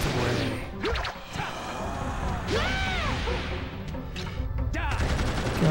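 Rapid, relentless gunfire spammed in the action game Blood Will Tell, cracking and whooshing in quick succession alongside impacts and strained in-game character cries.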